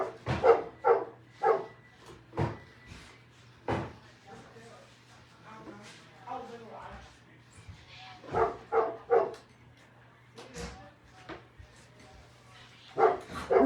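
A dog barks repeatedly indoors, loud clusters of sharp barks at the start, middle and end separated by quieter pauses, with a person talking between them.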